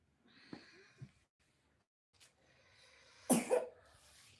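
Someone coughs several times in short, separated bursts, a couple of light ones early and a harsher, louder double cough near the end, heard up close in an otherwise quiet room.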